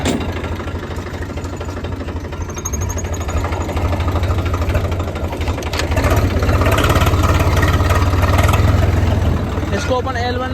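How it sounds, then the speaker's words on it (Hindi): A Massey tractor engine runs close by in a farm field, a loud, steady low chugging throb that builds slightly in intensity, with voices talking over it. "अब चला दे भाई ट्रैक्टर।"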